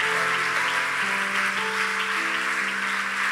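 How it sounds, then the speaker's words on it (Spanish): Church congregation applauding during a worship service, a steady wash of clapping under sustained organ or keyboard chords that shift pitch, continuous and moderately loud. "Alguien dele otro aplauso al Señor Jesucristo"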